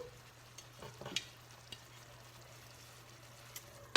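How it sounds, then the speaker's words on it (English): Sauce simmering in a pan over low heat, a quiet, faint bubbling with scattered light ticks and a low steady hum beneath, ending on a sudden loud clatter. "just let that simmer for another 3 to 4 minutes, just so it's extra saucy"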